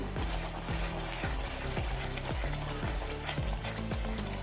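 Banana halwa with ghee cooking in a pan over a high flame: a continuous bubbling sizzle with steady, evenly spaced scrapes of a spoon stirring, close and fairly loud.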